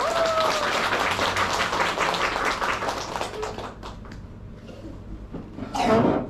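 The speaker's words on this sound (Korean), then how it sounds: "발표해 주신 6분께 큰 박수 부탁드리겠습니다" Audience applause after group presentations at a book club meeting, dense clapping filling the room and then thinning out. A voice and a brief burst of noise follow near the end.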